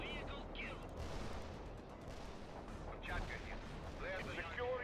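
Distant incoming artillery and gunfire in the Cold War strategy game World in Conflict: Soviet Assault, a muffled continuous rumble of bombardment with scattered thumps and voices speaking over it.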